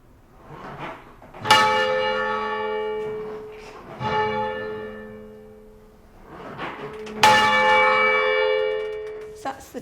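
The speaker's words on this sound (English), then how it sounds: "So that's the tenor." Tenor of a ring of six church bells at St Edward's in Cambridge, struck twice about six seconds apart, each stroke ringing out with a bright onset and a long humming decay; faint voices murmur between the strokes.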